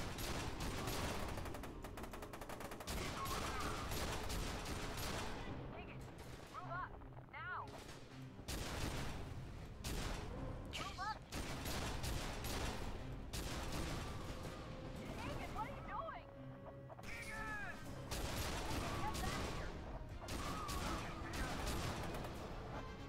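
A mounted turret in the video game F.E.A.R. 2: Project Origin fires in long, loud, sustained bursts, broken by brief pauses, with mechanical clatter throughout.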